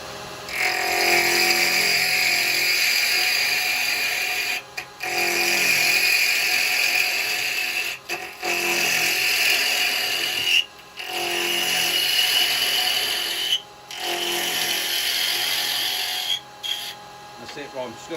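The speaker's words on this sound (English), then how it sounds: "just get your carbide chisel and just" A carbide chisel cuts into a small wooden piece spinning on a woodturning lathe, a steady loud scraping hiss over the motor hum, broken by brief pauses every few seconds as the tool lifts off.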